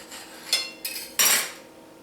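A rolled avocado and white bean salad wrap cut on the diagonal with a serrated tomato knife, three short rasping sawing strokes, close and fairly loud, with no voices.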